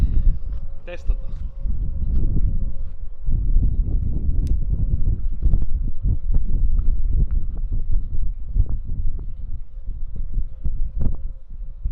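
Strong wind buffets a microphone outdoors at an archery range, a continuous loud low rumble and roar throughout, with someone speaking briefly under it.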